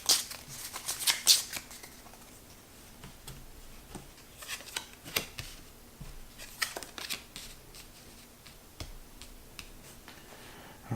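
A deck of Raxxon game cards being shuffled close by, with a burst of crisp riffling clicks at the start and scattered softer card flicks and taps afterward, no talking.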